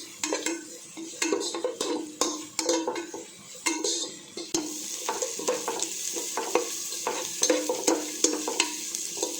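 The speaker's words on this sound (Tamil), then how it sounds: "இது வெங்காயம் இப்போ நல்லா வதங்கி வரணும். நல்லா கோல்டன் கலருக்கு வதங்கி வரணும்." Onions sauté in a pan until golden, with a spatula scraping and clattering in repeated stirring strokes over a continuous close sizzle.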